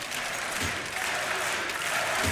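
Loud, continuous cheering and applause from an arena crowd at a DreamHack Masters esports semi-final, Godsent versus Ninjas in Pyjamas on Mirage, forming a dense, unbroken roar of clapping and voices.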